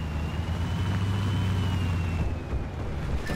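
A rocket truck's engine in the video game Battlefield 4 drones as a steady low rumble, with a thin whining tone that slowly drifts lower above it and no voices.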